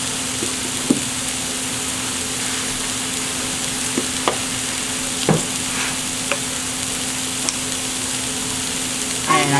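Seasoned cabbage from a coleslaw mix sizzles steadily in a hot pan, with occasional scraping and clacking as it is stirred around; close and continuous.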